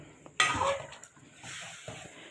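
Mutton karahi is stirred in a pan, a sharp metallic clink and scrape of the spoon against the pot followed by quieter stirring and scraping.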